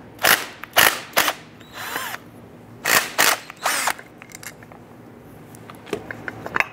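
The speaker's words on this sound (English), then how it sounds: "We need to use our 12mm socket, remove our slider pin bolts." A power tool with a 12mm socket spins out the slider pin bolts on a front brake caliper for a 1994-2004 Ford Mustang, giving several short loud whirring bursts with pauses and small clicks between them.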